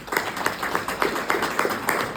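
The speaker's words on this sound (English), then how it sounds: "Give our township employees a round of" A council meeting audience in Mount Holly Township applauds township employees, a modest room of people clapping in a quick, uneven patter that stays steady for a couple of seconds.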